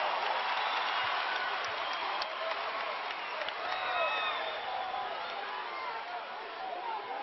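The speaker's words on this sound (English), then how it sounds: "Now, can the crowd keep this up, this kind of intensity and emotion?" Loud, sustained crowd cheering at the Spectrum basketball arena during a BYU at Utah State college game, with whoops and chatter in a dense roar and a commentator talking over it.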